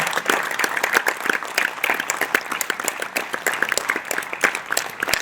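A hall audience claps loudly and continuously for directors Sangam Bahuguna and Vikas Srivastava, dense individual hand claps blending into sustained applause.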